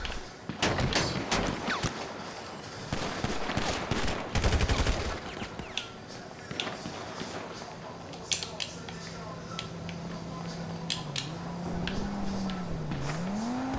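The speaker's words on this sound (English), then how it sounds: "Why are you shooting at me?" Enemy gunfire in GTA Online rattles in dense, loud bursts over the first few seconds, then thins to scattered distant shots under a steady engine hum, with someone talking over it.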